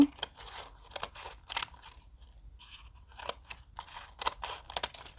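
Scissors snip through paper being cut for a sunflower origami craft. The crisp, close cuts come in short irregular bursts, with a brief pause in the middle and no voice.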